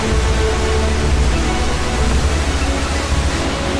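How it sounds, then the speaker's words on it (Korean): Trümmelbach, a 140 m, ten-tier stepped waterfall in Switzerland, plunging through a narrow glacial rock gorge; a loud, steady, dense roar of rushing water continues without a break, with no voices. "높이 140m의 트리멜 바흐는 10단으로 이루어진 계단형 폭포입니다."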